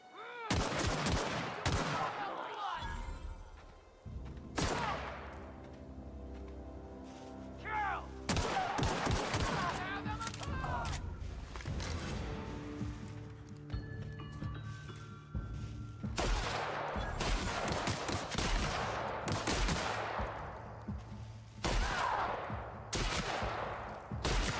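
Shotgun and pistol gunfire in The Outer Worlds: repeated sharp, loud shots in several bursts with ringing decays and echoing tails, separated by brief lulls.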